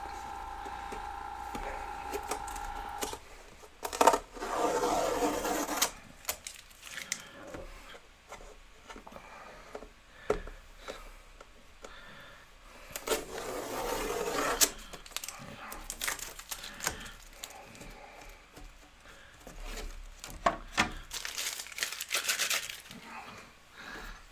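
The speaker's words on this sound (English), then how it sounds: "I'm going to pull off this tape." Masking tape is peeled from an airbrushed fire painting in several separate ripping pulls, each a crackly tearing burst with quiet pauses between them, close and moderately loud.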